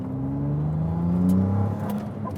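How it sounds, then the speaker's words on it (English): The hybrid V6 engine of a Ferrari 296 GTB revs and drones steadily, its pitch rising and falling through gear changes, loud and close with no voices. "I want you to listen over the next few minutes to the sound of this engine"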